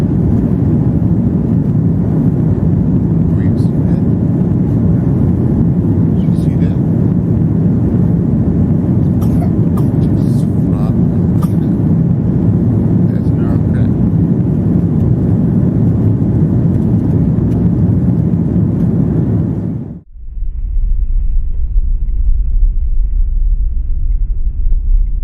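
Airplane cabin noise heard from inside a plane in flight: a loud, continuous low rumble and broadband whoosh that holds steady, then cuts abruptly near the end, leaving only a deep muffled hum.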